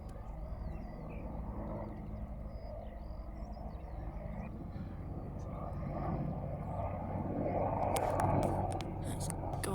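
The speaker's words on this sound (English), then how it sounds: "I absolutely love the Apache helicopters. Can't see them at the moment. Oh, there it is. In the distance." An Apache helicopter flies in the distance as a steady, low rumble that swells slightly toward the end, with road noise in the background.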